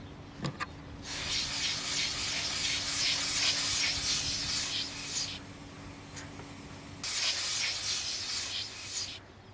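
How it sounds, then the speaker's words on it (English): Steady pressurised gas hissing from a loosened union nut on the gas pipe of a Siemens 3AP1FG 245 kV circuit breaker pole column, a broad continuous rush lasting several seconds, pausing briefly, then resuming. "The gas pipe is aligned and the union nut unscrewed until a hissing noise is audible."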